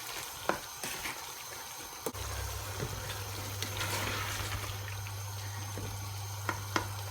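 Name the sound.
frying and stirring frozen peas in chicken korma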